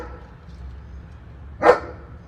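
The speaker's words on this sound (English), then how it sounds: "That's our neighbor's dog." A neighbor's German Shepherd lets out a single sharp bark at a distance, breaking a quiet outdoor background.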